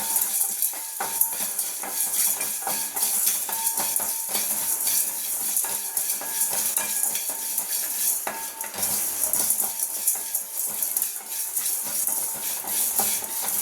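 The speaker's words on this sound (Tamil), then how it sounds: "இஞ்சி பூண்டு போட்டு அதையும் ஒரு வதக்கு வதக்கலாம்" Ginger and garlic sautéed with chicken in ghee in a pan: a steady, moderate sizzle with frequent scraping and clinking of a utensil stirring against the pan, and no voices.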